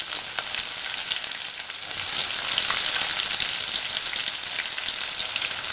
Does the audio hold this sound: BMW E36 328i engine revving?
no